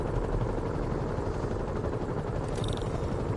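Helicopter in the Marvel's Spider-Man video game, a steady dense rotor and engine roar filling the whole clip at constant loudness, with a brief high whine near the end.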